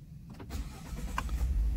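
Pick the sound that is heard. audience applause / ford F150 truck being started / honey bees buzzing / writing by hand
ford F150 truck being started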